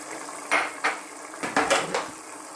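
Baguio beans and pork stirred in a pan with a spatula, five or six close scraping clatters against the metal over a faint sizzle.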